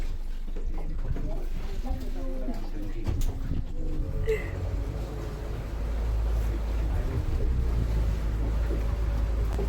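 A safari boat on the Kabini river gives off a low, steady motor drone that grows stronger partway through, with faint voices and open-air wind noise around it.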